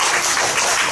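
Church congregation applause during a Korean worship service appointing deacons, a brief, loud, steady wash of many hands clapping.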